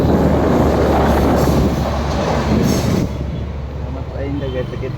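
A train passes nearby on a route in Kerala, its loud continuous rumble and wheel noise dominating and then easing off toward the end, with voices talking over it.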